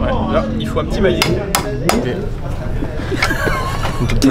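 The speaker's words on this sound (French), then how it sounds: "Ouais, là, il faut un petit maillet." A small mallet knocks repeatedly on a motorcycle at the Bol d'Or Classic, a series of sharp metallic taps in uneven rhythm, close up, while people chatter and laugh over it.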